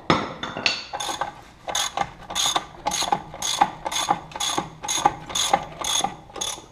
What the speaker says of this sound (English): And then basically just take your bolt loose.